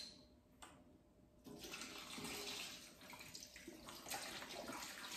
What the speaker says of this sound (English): what we're gonna do is we're gonna grab our veggie stock,